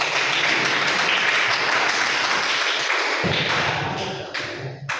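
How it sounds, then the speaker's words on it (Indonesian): A classroom of students claps together after finishing a game, a dense, loud burst of close applause that thins out and breaks off near the end. "Tepuk tangan untuk kita."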